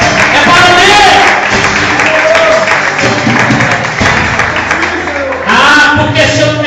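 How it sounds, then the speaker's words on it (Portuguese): A church congregation at an anniversary Sunday service applauds steadily while a preacher's loud voice carries over the clapping, which swells again near the end. "Aplauda o nome do Senhor."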